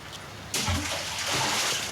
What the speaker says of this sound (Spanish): Se escucha el agua, hay mucha agua.